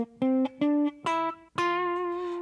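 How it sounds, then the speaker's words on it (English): A major scale sounds on an electronic-toned instrument: a handful of clean, sustained notes stepping upward one after another, moderately loud and alone, the last held longest. "So a major scale sounds like this."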